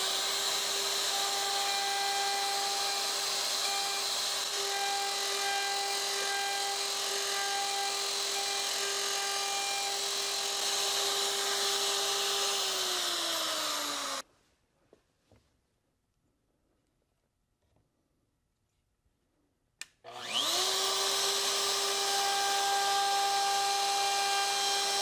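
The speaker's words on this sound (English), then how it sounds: "I don't think I need a plunge router for this. So I'm going to go ahead and route that out." A router cuts into a wooden hand plane to open up its mouth, a loud, steady high-pitched motor whine that winds down and stops, leaving near silence with a few faint knocks, then starts back up at full speed.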